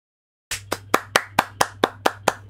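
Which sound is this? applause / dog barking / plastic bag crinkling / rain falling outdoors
applause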